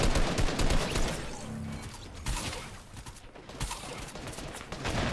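Sustained spraying gunfire in Fortnite, rapid bursts of shots rattling throughout at moderate loudness with brief dips between volleys.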